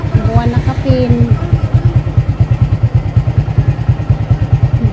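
A motorcycle being ridden putters up close with a loud, rapid, evenly pulsing engine beat that holds steady throughout, with a brief voice sounding over it early on.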